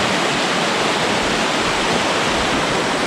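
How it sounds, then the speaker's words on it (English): A small creek in the Tasmanian west-coast wilderness flows steadily nearby, a dense, even rush of water with no pauses, heard alone throughout. "I'm just beside a nice little creek here."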